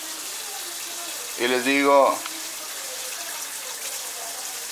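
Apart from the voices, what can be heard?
water poured into container to test a car thermostat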